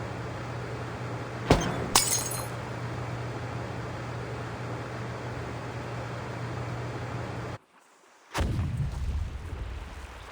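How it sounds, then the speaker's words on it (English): In Reverse: 1999, a steady roar of background noise is broken by a couple of sharp cracks, then a sudden cut to silence followed by a loud booming explosion. "Sounds like some kind of explosion near the clinic."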